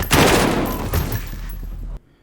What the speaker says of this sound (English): The guns look photorealistic, feel good to shoot, and sound awesome.